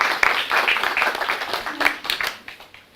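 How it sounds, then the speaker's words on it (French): An audience applauds a guest at a debate-style talk, with scattered claps that swell, then thin out and fade toward the end, moderately near. "j'aimerais qu'on applaudisse d'abord notre invité"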